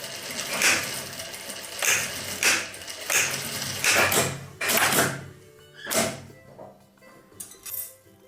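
Repeated bursts of fabric being stitched along the sides of a handmade Latkan-style fabric rose, about seven short scratchy strokes a second or so apart, close and moderately loud, with no talking.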